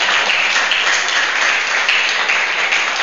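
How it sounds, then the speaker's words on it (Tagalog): A church congregation applauds together, dense, continuous clapping filling a large room at steady loudness throughout, with no voices standing out. "Palakpak sa Panginoon."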